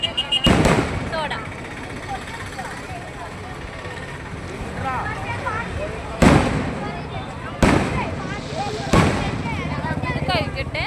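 Firecrackers set off during the festive season produce four sharp, loud bangs spaced several seconds apart, one early and three in quick succession near the end, over ongoing nearby chatter and street bustle.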